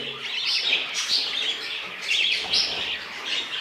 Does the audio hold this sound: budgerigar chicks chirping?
yes